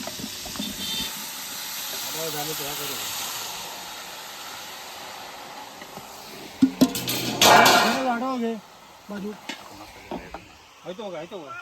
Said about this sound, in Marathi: आमची फायनली भोपळाची भाजी फोडणीला गेलेली आहे